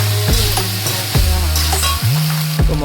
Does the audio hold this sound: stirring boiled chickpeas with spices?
yes